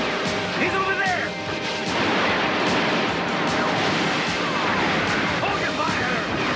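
Gunfire in a shootout from a 1988 RoboCop series, rapid bursts of shots and crashing impacts running continuously, loud and close, with shouting voices mixed in.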